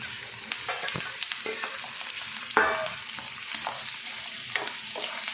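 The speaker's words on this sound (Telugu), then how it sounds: "బోటీని ఆయిల్తో పాటు బాగా ఫ్రై అవ్వనివ్వాలండి" Boiled tripe sizzles in oil with onion and green chilli, a continuous close frying hiss broken by repeated scrapes and clacks of a spoon stirring the pan.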